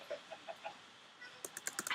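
A Minecraft chicken clucks in a few soft, short blips, followed by a quick burst of sharp clicks like keyboard typing, all faint.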